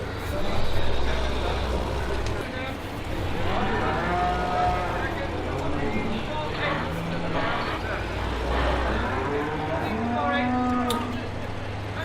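Cattle in Farming Simulator 2015 moo repeatedly while being unloaded at a cattle shed, several drawn-out calls over a low engine rumble, with a voice talking between them.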